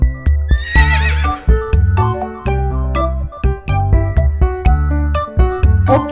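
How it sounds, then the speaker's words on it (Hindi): A horse neighs loudly in a long, shaky whinny, followed by rhythmic clip-clop hoofbeats with a steady, musical quality, used as an animal sound for a kindergarten lesson. No voices are heard. "next one is horse and horse को हिंदी में कहते हैं घोड़ा"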